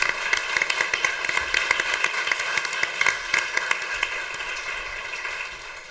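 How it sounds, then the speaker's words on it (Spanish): Audience applauding at the close of a talk on urban regeneration, a steady patter of many hands clapping at moderate distance, tapering off toward the end. "si les podemos dar un aplauso porque me pareció muy buena la charla"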